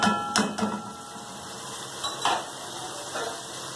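Green chilies fry in yogurt in a covered pan over low heat, giving a steady soft sizzle under a few sharp clinks and lid knocks near the start and middle.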